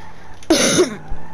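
A single harsh cough bursts out close by, a short throaty hack followed by a brief rasp, then quiet.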